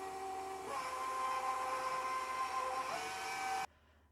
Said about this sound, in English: And now we're going to whisk it again for 15 minutes